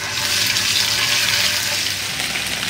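Ginger garlic paste sizzling in hot oil that already holds mustard seeds and cumin, a steady broadband frying hiss with no talking, for a chana masala.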